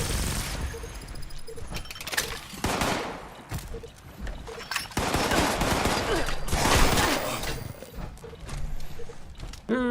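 Gunfire in Fallout 76, with repeated bursts of loud shots and clattering mechanical noise coming in uneven waves across the whole stretch.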